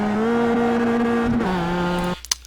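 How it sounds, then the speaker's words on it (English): A Mazda MX-5 in the iRacing simulator, at Summit Point, holds a loud, steady high-revving engine note against the rev limiter, dropping slightly in pitch before cutting off abruptly, followed by a few faint clicks. "So you could hear the car bouncing off the rev limiter there."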